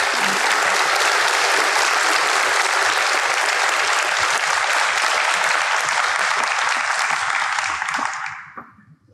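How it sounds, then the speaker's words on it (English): Audience applause at a 2023 high school awards day, a sustained dense wash of clapping from a large crowd that holds steady for about eight seconds before fading out. "Please give those students a round of applause"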